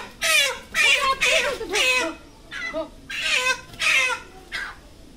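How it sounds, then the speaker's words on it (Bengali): A chicken caught from the jungle squawks loudly in repeated harsh bursts as it is taken out at home, several agitated calls close by with short pauses between them. "এবার দেখি মুরগিটাকে বার করলে তো চিল্লাবে"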